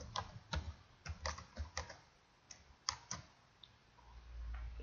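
A password is typed on a computer keyboard during a VMware vCenter Server 5.5 install on Windows Server 2012, giving a quiet, irregular run of soft key clicks at close range with no speech.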